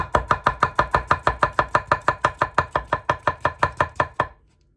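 A Nigara 210 R2 damascus gyuto knife slicing through a green tomato onto a board, about twenty crisp evenly spaced chops in a fast steady rhythm, close and loud, then stopping.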